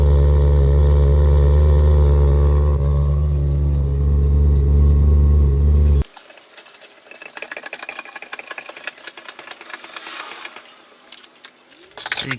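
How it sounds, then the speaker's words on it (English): A Maserati GranSport with Larini mufflers idles for about six seconds as a loud, deep, steady burble. After that comes a thinner broadband rattling mechanical noise, then a brief low burst at the end. "it definitely sounds a bit more rumbly and sort of gurgly with the Larini muffler"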